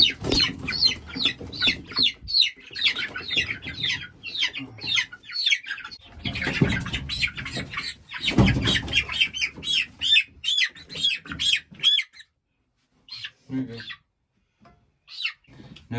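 Chickens on a farm, inside a dusty enclosure, clucking and squawking loudly in dense agitated bursts for about twelve seconds, then trailing off into a few scattered calls close to the microphone.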